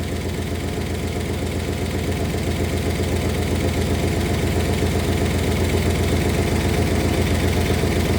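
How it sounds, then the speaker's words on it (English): A 1964 Oldsmobile 394 V8 idles steadily and close by, with a rapid rhythmic ticking from the valvetrain running through the low rumble and no one talking. "you hear the tick kind of settle down a little bit"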